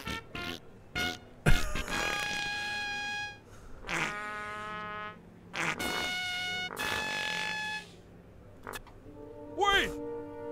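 Comic cartoon fart noises from South Park: The Fractured But Whole, several drawn-out buzzing blasts with wavering pitch, mixed with character voices and game sounds throughout.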